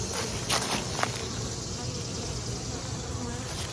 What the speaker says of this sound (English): That's an awful lot of bees